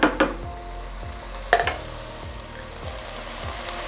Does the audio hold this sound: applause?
no